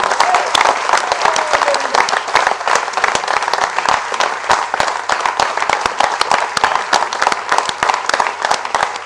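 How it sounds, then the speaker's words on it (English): A large conference audience gives loud, sustained applause as the coordinator is welcomed onto the stage, many hands clapping in a dense, crackling wash that holds steady for about nine seconds. "I want to invite the conference coordinator, Ms. Robina Gupta, onto the stage to a huge applause."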